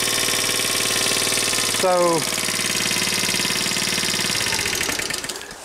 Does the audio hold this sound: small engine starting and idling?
yes